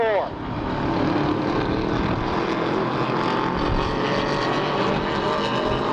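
Race cars running wheel to wheel through the turns of a track, a loud, sustained engine roar that holds steady throughout, with a commentator talking over it.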